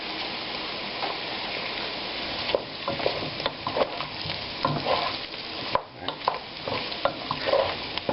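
Pork and beans with smoked sausage and bacon simmer in a pot with a soft, continuous bubbling sizzle, while a spoon stirs and taps through it with scattered light clicks.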